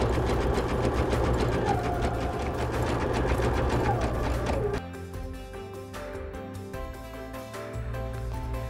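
Baby Lock sewing machine running a zigzag stitch with a cording foot over heavy thread, a loud steady mechanical whir that shifts to a lighter, slower rhythm partway through, with no talking.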